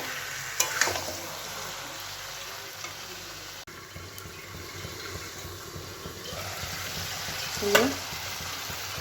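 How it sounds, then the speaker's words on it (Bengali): Mutton pieces coated in oil and turmeric sizzling and being stirred with onions in a pan, steady frying hiss with a few scraping clatters of the spoon. "খাসির মাংসটা কষা চলছে, চাপা দিয়ে দিয়ে কষবো অনেক সময় ধরে"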